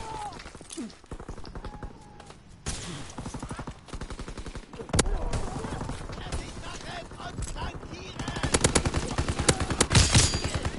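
Gunfire in Call of Duty WWII on PS4: repeated sharp shots and bursts of rapid automatic fire, some close and loud, others further off, with talk and game radio voices mixed in.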